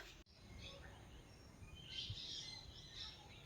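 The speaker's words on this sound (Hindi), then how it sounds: "चिड़ियाओं की इतनी प्यारी आवाज़" Birds chirp faintly outdoors at a home during a daytime wait, with scattered high tweets rising in the middle over low background noise and a brief knock at the start.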